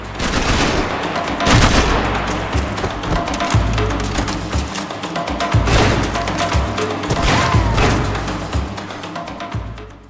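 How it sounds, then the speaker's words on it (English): Loud, close AK-47 fire in the video game Max Payne 3 comes as rapid automatic bursts with heavy thuds and crashes, dense and continuous across the stretch with no talking. "ये AK-47 का जलवा।"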